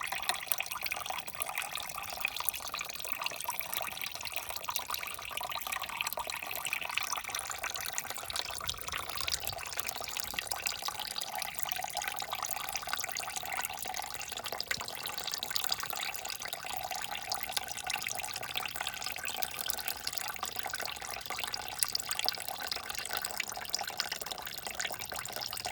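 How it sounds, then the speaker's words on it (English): Water pours steadily out of the box sections of a Mercedes Sprinter van, a continuous broadband splashing and gushing that stays loud and unbroken throughout, like a running tap close by. "looking at the flow coming out of here, out of these box sections"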